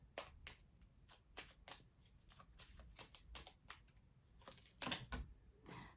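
Quiet, crisp riffling and tapping of tarot cards being shuffled by hand, a series of short bursts with small pauses between them, ending in a sharper snap.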